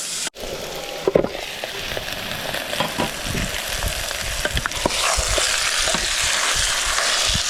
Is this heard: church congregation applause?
no